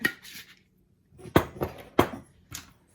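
A lid being placed on a container of homemade hamburger helper mix, with a soft clatter followed by several sharp clicks and knocks close by, separated by brief pauses.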